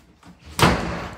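A cupboard door in a house shuts with a single close, loud bang after a brief softer rustle.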